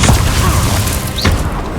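A Confringo fire spell detonates during a Hogwarts Legacy duel. It lands as a loud, deep booming blast over continuous rumbling combat noise, with a brief rising whoosh partway through.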